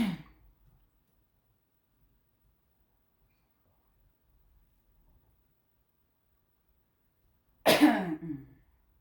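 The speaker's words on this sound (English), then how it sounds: "as you can see, I cough a lot" A single sharp cough or throat clear bursts out near the end, close and fairly loud, after a short faint throat sound at the start and long quiet, during cold process soap making with sodium hydroxide lye solution.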